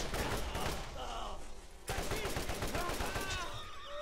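Rapid gunfire from the video game Borderlands, a continuous loud barrage of shots and automatic bursts filling the whole stretch, with a short lull before the firing resumes even more densely.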